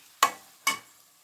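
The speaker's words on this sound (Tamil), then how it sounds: "இதை போட்டு நல்லா வதக்கிடுங்க. அந்த பச்சை வாடை போகிற வரைக்கும் வதக்கினாலே போதும்." Lemon and fresh turmeric being sautéed in a pan for pickle, heard as two short, bright scraping stirs about half a second apart, each fading quickly, with quiet between and no talking.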